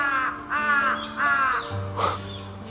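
A crow caws from high above at a temple in Japan: three loud, drawn-out harsh calls evenly spaced, then a shorter sharp call, set against low steady background hum.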